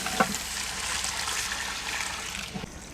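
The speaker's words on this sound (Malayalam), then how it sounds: "ഒരല്പം വെള്ളം ഒഴിച്ചു കൊടുക്കാം." Water trickles and splashes steadily for a few seconds into a cooking pot of mutton biryani gravy with spices and yogurt, with a couple of faint clinks from a utensil at the start and end.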